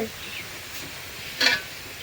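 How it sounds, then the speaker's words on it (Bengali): Whole cardamom and cinnamon sizzle quietly in oil with a soft steady hiss, broken by one brief louder burst near the end. "ওই যে এলাচ দারচিনি ভাজছি তোর সাথে,"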